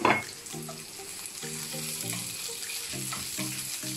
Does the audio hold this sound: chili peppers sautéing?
yes